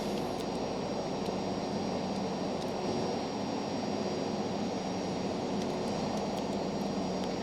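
Steady broadband jet roar of a Cessna Citation C525 in a flight simulator, cruising in a VFR traffic pattern, continuous and even throughout with no talk.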